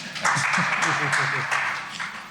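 Brief burst of clapping from a crowd at a Texas barbecue pitmaster roundtable event, with a voice speaking over it throughout.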